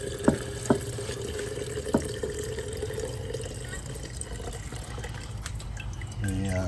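Fuel trickles and drips steadily from a drained fuel filter into a jar nearby, with a few sharp clinks early on and the flow growing slightly louder at the end.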